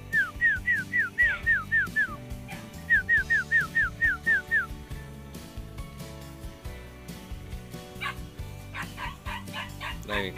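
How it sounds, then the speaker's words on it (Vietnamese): Several white fluffy puppies yip and whimper in quick, repeated high-pitched bursts, close and clear, with shorter yelps returning near the end over a steady background. "Anh này anh ấy sưu tầm được rất là nhiều chó con."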